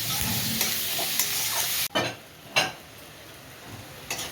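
Onions sizzle loudly in hot oil for a Bengali fish-head and eggplant curry, with a steady fry broken by a sudden drop and a few sharp clinks and spatula scrapes against the pan.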